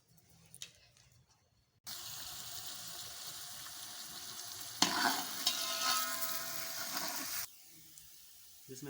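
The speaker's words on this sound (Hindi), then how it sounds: "ये 2 कप कुकिंग ऑयल है, ये हम शामिल करेंगे और प्याज को ब्राउन कर लेंगे" Onions browning in about two cups of hot cooking oil for chana pulao, a loud steady sizzle and frying hiss with stirring, swelling louder midway, then stopping; no talking.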